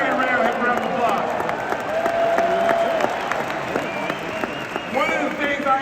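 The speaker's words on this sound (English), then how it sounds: "give Johnny Red a round of applause" Arena crowd at a Chicago Bulls ceremony applauding and cheering steadily for several seconds, with an announcer's voice over the noise.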